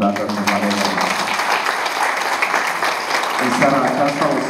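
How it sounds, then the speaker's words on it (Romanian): Applause from the audience at an anniversary celebration honouring couples married for 50 years, a steady clapping wash that fills the clip, with a voice talking over it and music-like tones near the end. "Haideți să o mai aplaudăm o dată și Valeria Arnăuntu."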